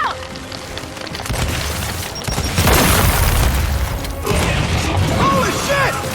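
A frag grenade goes off in the video game Gears 5 with a loud boom and crash, followed by mechanical clatter amid gunfire and shouting voices.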